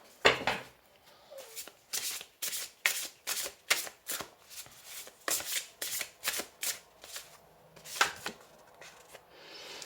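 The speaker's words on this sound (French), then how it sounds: "On va tirer une dernière carte." Tarot cards shuffled and drawn by hand, a rapid run of crisp riffling snaps and soft slaps in uneven bursts, close and quiet against a hushed room.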